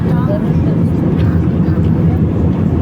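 Steady, loud cabin drone of an airliner in flight, a dense low roar of engines and airflow that holds without a break, with faint voices murmuring beneath it.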